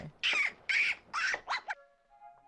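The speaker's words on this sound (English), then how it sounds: "Oh, it's an eagle." An eagle in a Soviet film lets out a series of four or five harsh, squawking cries in quick succession, fairly close and clear, followed by a faint tonal hum.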